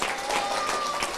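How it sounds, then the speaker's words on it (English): Applause at a citizenship ceremony for new citizens, dense clapping from a crowd filling the room steadily throughout, with no voices over it. "Please, another round of applause for our newest citizens"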